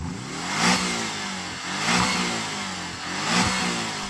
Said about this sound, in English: A normal 718 Boxster sounds like this.